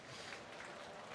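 A church congregation clapping together during a Sunday service greeting, a steady dense wash of many hands held at an even level throughout with no talk over it.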